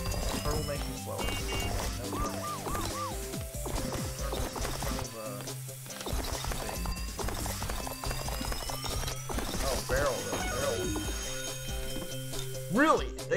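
Horses gallop in a race in the Hannah Montana: The Movie video game, with rapid rhythmic clip-clopping hoofbeats and mechanical game effects running throughout while a person talks over them.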